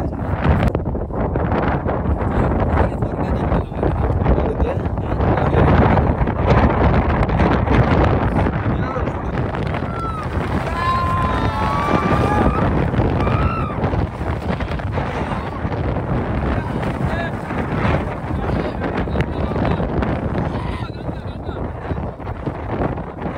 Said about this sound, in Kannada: ದೊಡ್ಡ ಗಾಳಿ ಬಂದದ